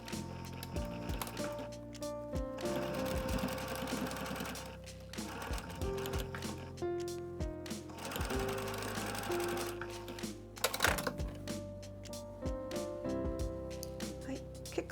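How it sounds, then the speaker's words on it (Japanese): Sewing machine running a stitch along the side seam of a Uniqlo T-shirt, a steady mechanical whir with intermittent bursts, fairly quiet under a busy, music-filled background. "上からミシンステッチで留めます。"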